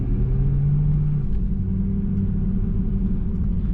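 A 2002 Pontiac Trans Am V8 growls as it accelerates, a deep rising drone that settles into a steady rumble, heard from inside the car.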